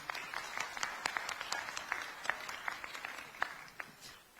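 A luncheon audience of Korean expatriates in the Philippines applauds, giving a steady patter of many hands clapping at moderate distance with no voices over it.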